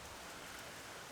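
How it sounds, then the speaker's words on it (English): Steady rain falling outside a garage workshop, an even, continuous hiss of drops on surfaces, soft and unbroken with no talk. "I'm in my garage and it's raining"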